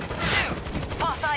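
Automated auto turrets fire rapid bursts in the zombie shooter World War Z, a dense rattling volley up close, mixed with game noise and shouted voices.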